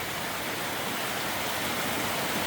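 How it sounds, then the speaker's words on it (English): Heavy rain pours down steadily outdoors at an underground sapphire mine, a dense, constant roar of rainfall that fills the whole scene with no voices. "Just absolutely pouring down."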